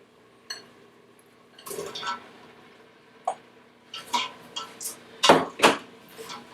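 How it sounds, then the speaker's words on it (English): Chopped red bell pepper and other ingredients are poured into an Instant Pot for clam chowder, giving a few scattered soft splashes and clunks, then a cluster of louder liquid sloshes near the end, close by. "we are ready to go ahead and pour this into the pot now"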